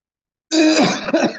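A single harsh cough, close and loud, rasping out suddenly after a moment of silence at the start of a lecture, with a short second burst at the end.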